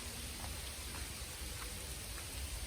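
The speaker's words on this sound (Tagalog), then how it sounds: "Ulan ng ice." Ice pellets falling like rock salt at the first snow, a dense, steady outdoor patter of tiny hard grains with faint scattered ticks, continuous and even throughout.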